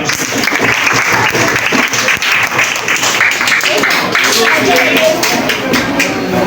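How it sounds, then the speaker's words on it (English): A school audience of form-one to form-three students breaks into loud, sustained applause, a thick continuous wash of clapping with voices mixed in throughout. "clap for yourself"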